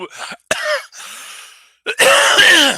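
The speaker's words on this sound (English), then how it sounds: "He coughed." A man coughs and clears his throat in a few rough, close bursts separated by short pauses, ending with a louder, longer harsh cough.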